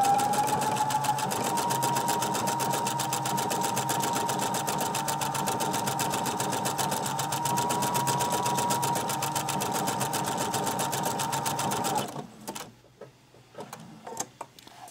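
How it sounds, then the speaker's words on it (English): A sewing machine runs steadily while stitching flannel unpaper towels, giving a loud, continuous mechanical whir with a fast stitching rhythm for about twelve seconds before it stops and a few faint handling clatters follow. "I'm just going to keep sewing."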